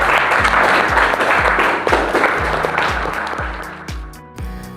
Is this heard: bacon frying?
no